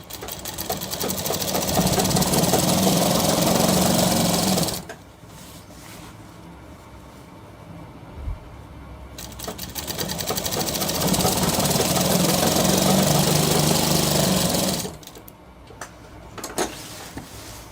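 A sewing machine stitching a shirt, with two long, steady runs of rapid mechanical whirring and ticking separated by a quiet pause and a few faint clicks.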